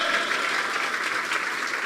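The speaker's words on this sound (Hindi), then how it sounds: "जोरदार तालियां बजा दे मेरे यीशु के लिए।" A church congregation at a Christmas sermon breaks into loud, vigorous clapping, a dense continuous roar of many hands that holds steady throughout.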